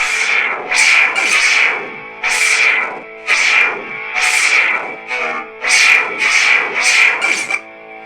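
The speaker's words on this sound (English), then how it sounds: "the impact sounds you're hearing, those actually are part of the accent swings." Several loud, sweeping lightsaber swings from the Maverick Hunter X sound font with humming tone, each ending in a crunchy impact burst, coming in quick irregular succession with no talking.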